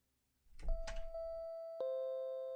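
A doorbell chimes in the video game Cell of Empireo, two clear sustained tones ringing one after another after a brief burst of noisy rustling, each tone lingering and fading slowly.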